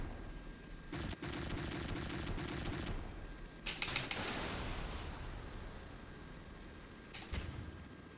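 Rapid machine-gun bursts from a warship in the naval combat game Modern Warships, fired in three separate volleys: a long stretch, a shorter burst, then a brief final rattle, loud and close over a steady low rumble.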